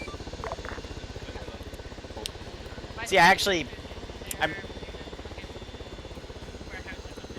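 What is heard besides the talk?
helicopters in a video game (military sim)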